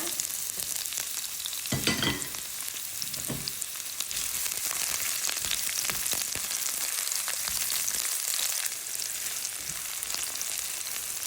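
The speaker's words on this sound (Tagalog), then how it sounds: "isunod natin ngayon ang sibuyas o sibulya" Onions frying in a pan make a continuous bright sizzle close up. Repeated scraping and stirring strokes rise above the sizzle, with no voices.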